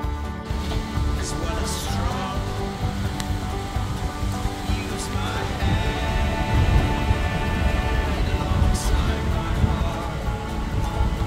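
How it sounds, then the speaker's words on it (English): Steady rain hisses continuously at a moderate level in Ireland, with faint murmuring in the background. "It's raining"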